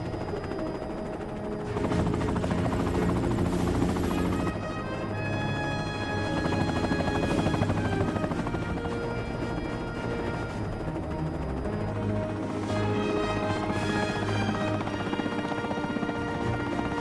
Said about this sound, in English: Launch the Freedom Strike Helo.